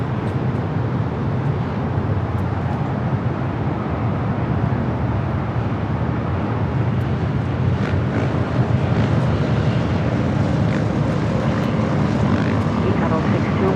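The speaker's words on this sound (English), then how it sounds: "Alright, A330 Neo up next for takeoff." An Airbus A330neo jet taking off at LAX, a loud continuous engine roar that holds steady and swells slightly toward the end, heard outdoors from a spotting position.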